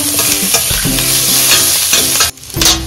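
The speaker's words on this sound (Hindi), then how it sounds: "ये हमारे प्याज लहसुन अदरक सारे हो गए हैं, थोड़े भून गए हैं" Onion, garlic and ginger fry and sizzle in a pan for palak paneer, with steady broadband sizzling and several close stirring scrapes, a brief pause near the end before the frying resumes.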